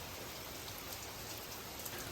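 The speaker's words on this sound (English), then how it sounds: "we get some very heavy downpours." Heavy tropical rain pours down steadily during the rainy season in Bocas del Toro, Panama, a dense, continuous hiss of drops hitting surfaces close by, with no pauses or voices.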